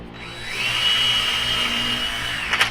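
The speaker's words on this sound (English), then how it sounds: "And I'm going to pre-drill" A power drill whirs steadily for a couple of seconds, pre-drilling wood for a picture frame jig, close and fairly loud, with a brief clatter at the end.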